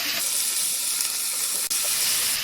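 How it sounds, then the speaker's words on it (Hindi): Green garlic and onion sauté in a pan over medium heat, giving a continuous loud steamy hiss and sizzle with little variation, close and without talking. "अच्छे से इसे मिक्स करेंगे और 1 मिनट इसे भी भून लेंगे"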